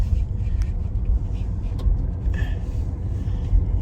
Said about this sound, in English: But driving out of the complex here now